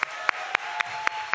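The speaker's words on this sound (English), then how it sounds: "Applaud!" Studio audience applause at a live game-show-style talk show panel at ATX Festival 2017, dense clapping with a regular beat of louder claps roughly every quarter second, as if some people clap in time.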